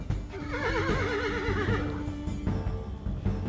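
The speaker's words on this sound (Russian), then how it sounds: "От очередного раската грома конь Лале вдруг испугался и встал на дыбы" A frightened horse in the Club Romance game rears up during a thunderstorm and lets out a loud, wavering whinny, followed by shorter snorting neighs, heard alone.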